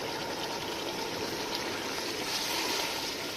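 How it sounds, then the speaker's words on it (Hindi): Lemon juice, about three spoonfuls, poured into chicken biryani gravy in a pot: a soft continuous trickling splash, close and fairly quiet, running steadily for a few seconds with no voices. "लेमन जूस शामिल करेंगे 3 चम्मच।"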